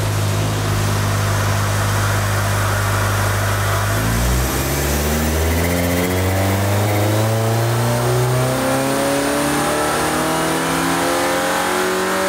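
A Volkswagen MK7 turbocharged engine runs on a hub dyno, idling steadily and then climbing hard through a long, loud rev sweep whose pitch rises continuously to the end, with a faint turbo whine on top.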